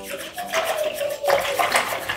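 Water pours steadily into a bowl of yogurt close by, a continuous splashing trickle that rises in pitch as it fills.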